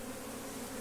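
Honey bees buzz around a hive box at an apiary, a dense, even drone of many insects close by with no voices.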